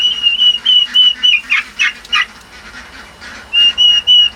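Young heritage-breed turkeys give repeated high, thin whistling peeps close by, in short bursts with brief pauses between calls.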